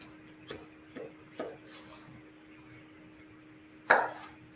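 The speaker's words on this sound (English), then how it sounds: "to serve it, we'll just cut it into slices like this" A knife slices through a watermelon topped like a pizza, giving a few soft thuds on a board and one sharper, louder crunching cut near the end, close and otherwise quiet.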